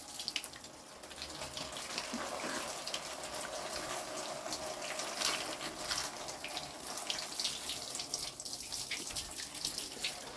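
Fresh water runs steadily from a tap or faucet to rinse a wooden boat surface being prepped for varnish, a continuous close splashing hiss lasting throughout with no talking.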